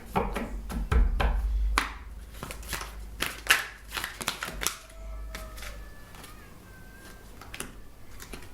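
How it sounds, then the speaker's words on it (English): Tarot cards drawn one after another from a deck, a run of crisp papery slaps and flicks up close, fairly quiet and with no talk over them. "I'll draw 2 more cards"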